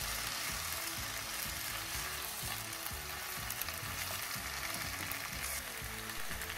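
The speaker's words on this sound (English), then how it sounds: "Then add the bok choy leaves. Continue to stir fry at least 30 seconds." Bok choy leaves stir-fried in a hot pan: a loud, dense, unbroken hiss of frying with faint low rumbles of tossing beneath, heard alone without any speech.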